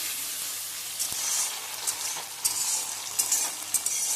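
Ginger frying in a pan for paneer kosha, with a steady, fairly quiet sizzle and scattered sharp crackles and pops growing more frequent toward the end.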